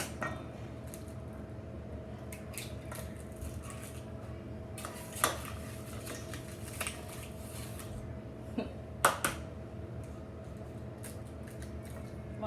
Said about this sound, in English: We're going to give that a good little mix.